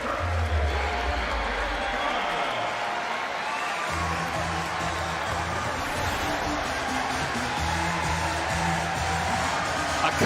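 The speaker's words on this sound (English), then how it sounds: "And this crowd is fired up." Crowd noise at a 2020 college wrestling meet between Arizona State and Ohio State, a steady roar of cheering and applause filling the arena from start to finish, with faint voices mixed into the din.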